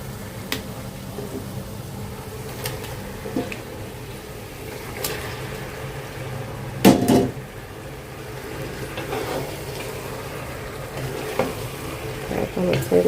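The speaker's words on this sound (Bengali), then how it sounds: "যে মাংসটা ধুয়ে ঝরা দিয়ে রাখছিলাম এখন হচ্ছে দিয়ে দেবো" Washed, drained meat hits a pan of well-fried spice masala, giving a steady close sizzle with stirring clatter and a few sharp spatula knocks throughout, no talking.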